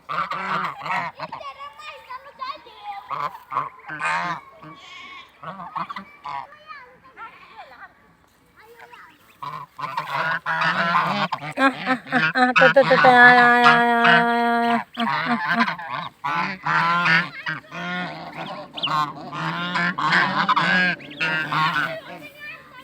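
Domestic geese honk loudly on a farm in repeated bursts, with one long run of rapid honks midway, mixed with someone speaking over them.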